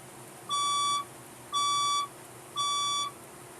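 A red fire alarm sounds three evenly spaced, half-second electronic beeps, clear and alone over faint room noise.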